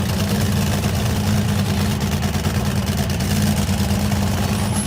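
A supercharged fuel-burning Lakester race car with a 2005 Cook Motorsports engine idles at Bonneville, a steady, loud, low rumble with a dense mechanical drone that holds unchanged throughout.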